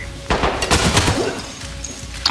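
Gunfire in the tactical shooter Ready or Not: several sharp, close shots in quick irregular succession, then a fading tail.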